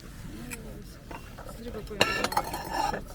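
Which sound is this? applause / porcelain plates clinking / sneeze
porcelain plates clinking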